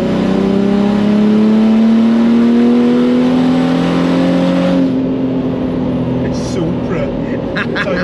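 A Nissan Patrol with a swapped OM606 diesel engine revs hard, its pitch climbing steadily before dropping off, loud and close, with people talking over it.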